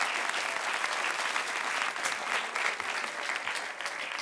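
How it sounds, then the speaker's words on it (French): A TV studio audience applauds a guest on a French talk show, dense steady clapping filling the room at even strength throughout. "Applaudissements pour Akhenaton."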